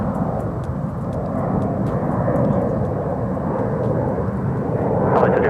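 A Frontier airliner lands on runway 36 left at Dallas-Fort Worth airport, its engines producing a broad, steady roar that swells slightly toward the end, with no voices.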